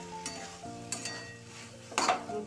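A spoon stirs jute leaf curry mixed with boiled lentils and sweetener in a pan, with a soft sizzle beneath a few scraping strokes, close and clear.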